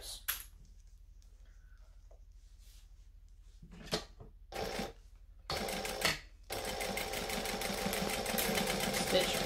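Domestic sewing machine stitching across the bottom of a bag; the motor starts and stops in short bursts, then runs steadily for the last few seconds, close and fairly loud with a low hum beneath.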